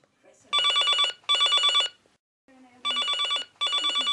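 A telephone rings loud and close in four double-trill bursts, each a rapid warbling electronic bell with short pauses between, and no talk is heard.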